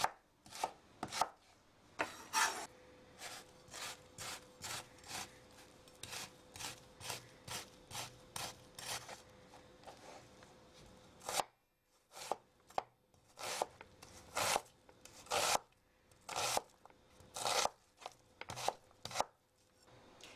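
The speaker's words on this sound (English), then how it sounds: "And everybody cuts onions differently." Onions being diced with a knife on a cutting board, rapid sharp chops in quick bursts, close and crisp, with short pauses between runs and no talking.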